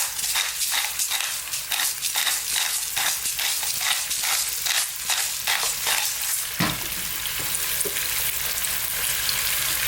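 Finely minced garlic and ginger fry in a hot pan with a steady loud sizzle, broken by repeated scraping stirs through the first two-thirds before settling into an even, continuous crackle.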